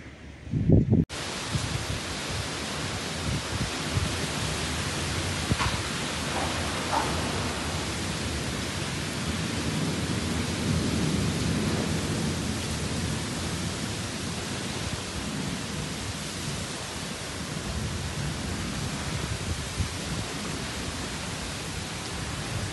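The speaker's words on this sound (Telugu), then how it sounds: "చినుకులు పడుతున్నాయి." Steady heavy rain with dusty, sandy wind, a hiss that fills the whole stretch, a dense broadband wash with gusty undertones and no voices.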